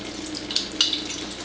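Acidic water trickles from a Melody KYK water ionizer into a collecting container, a steady thin stream of running water with a couple of brief splashy bursts, close and fairly quiet.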